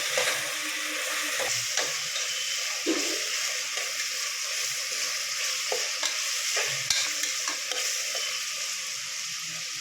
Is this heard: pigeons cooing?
no